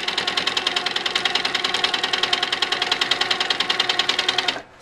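A sewing machine stitching along a ruler line runs at a steady, fast mechanical chatter, close and loud throughout, then stops abruptly just before the end.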